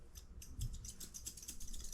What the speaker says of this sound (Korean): 이건 일반 미용가이고 이게 숯가위예요.